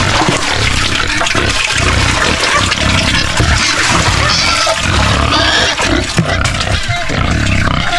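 Water gushing loudly and continuously from a faucet on a farm near pig pens, a rough, turbulent roar with scattered animal-like grunts and a person talking over it.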